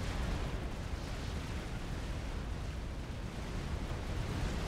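Galaxy class battleships and frigates trading fire in the Supreme Commander strategy game, a dense continuous roar of booming explosions and weapon blasts with no clear gaps, loud and sustained.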